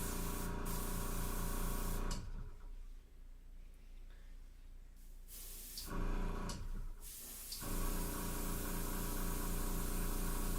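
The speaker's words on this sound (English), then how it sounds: "you can easily clean it up by just going back over it with the airbrush in some of these areas" An airbrush sprays acrylic paint in a steady hiss with a faint compressor hum beneath it, cutting out twice briefly before resuming.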